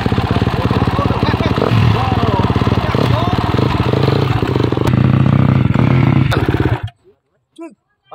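A KTM Austria 250 cc motorcycle engine idles nearby with a steady, rough, loud clattering rumble and a rise in revs partway through, then cuts off abruptly, leaving near silence with brief voices.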